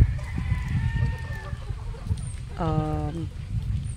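Gamefowl in a breeding pen, a Gilmore rooster with Dan Gray hens, give a short burst of clucking and a brief crow-like call, moderately close, with soft voices talking nearby.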